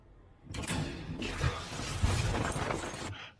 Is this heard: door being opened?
yes